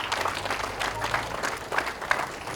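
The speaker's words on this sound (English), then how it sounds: "I think you deserve a round of applause for yourself" Scattered applause from an audience, moderately loud with individual claps audible, continuing evenly throughout.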